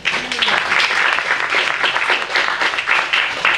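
Audience applause at a community forum with an FCC commissioner, loud and close, dense clapping that swells and dips in waves, with a faint voice briefly audible at the start.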